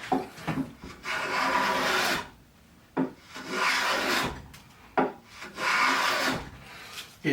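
A Jorgensen 60 1/2 block plane shaving 3/4-inch cherry wood in three long, close, rasping strokes of about two seconds each, with short pauses and a light knock at the start of each pass.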